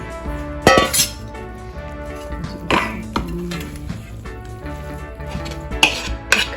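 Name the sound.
stirring a filling in a bowl, clinking dishes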